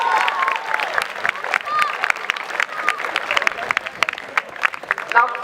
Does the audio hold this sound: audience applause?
yes